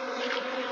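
Dense, steady buzzing of many honeybees in flight around the hives of a home apiary in Ireland on a mild, wet day, a close and continuous drone with no voices.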